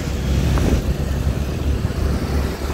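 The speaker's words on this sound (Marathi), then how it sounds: "आता मनोज 4 व्हीलरला ओव्हरटेक टाकी बघा." A motorcycle overtakes a four-wheeler on the road: a loud, steady engine drone with a brief rise in pitch as it passes, heard up close without any talking.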